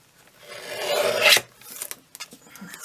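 A paper journal tag has its edge trimmed, giving a close, rough rasping scrape that builds over about a second and stops sharply, followed by a few light scattered clicks and rustles.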